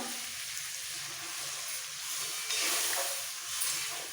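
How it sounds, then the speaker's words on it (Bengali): Water poured into spices frying in a pan for veg biryani sets off a loud, steady sizzle and hiss, close up and alone. "ভাজা কষা কষা হয়ে গেছে এবার এর মধ্যে দিয়ে দিচ্ছি জল"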